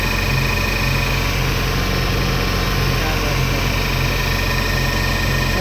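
A Renault truck engine idling, a steady loud low drone with an even mechanical hum that holds unchanged, close by and alone.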